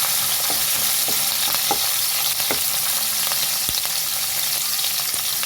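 Mustard seeds and spices for a tempering spluttering in hot oil before onions are added, a steady loud sizzle dotted with sharp scattered pops and crackles throughout, no voices.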